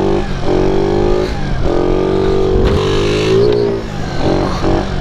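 A 50cc moped engine revs hard and steadily during a wheelie, close and loud, its pitch wavering up and down as the throttle is worked.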